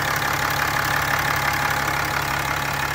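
A 2018 Ram 3500 Mega Cab Laramie Sport 4x4 with a 6.7-liter Cummins turbo diesel and stock exhaust idles close by, giving a steady, even, knocking rumble that holds constant with no voices.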